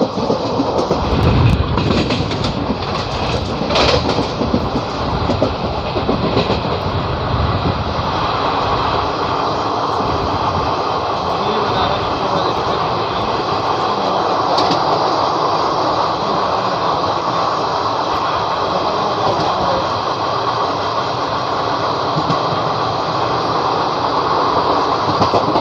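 The 22455 Sainagar Shirdi–Kalka SF Express overtakes the Hubli–Banaras Weekly Express near Kopargaon. A loud, continuous rail rumble and roar of the moving train fills the whole stretch, heard up close from on board.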